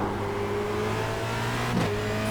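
Formula Renault 2.0 race car at Zandvoort, its engine held at a steady, carefully metered throttle, loud and close with a continuous droning whine and no voices.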